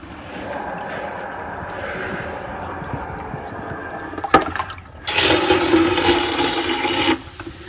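Water gushing out of a Rinnai tankless water heater's hot service valve into a bucket during a descaling flush, a steady rushing pour that grows suddenly louder and fuller partway through before cutting off.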